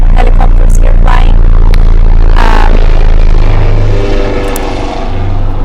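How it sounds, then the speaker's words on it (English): Helicopters fly low overhead, a loud continuous rotor and engine roar that fills the scene with no speech, steady throughout and easing only slightly toward the end. "I'm sorry, we have helicopters here flying."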